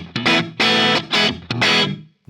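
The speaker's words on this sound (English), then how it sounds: "This is just the guitar and the amp on its own." A Fender Telecaster played through a Tone King Imperial amp with no effects gives crunchy, dry chords, four short strummed bursts with quick stops between them, close and loud.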